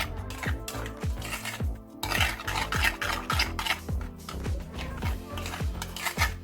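A utensil repeatedly scrapes and clinks against a bowl while mixing creme fraiche with egg yolks for meatball soup, a close rhythmic stirring of about two strokes per second.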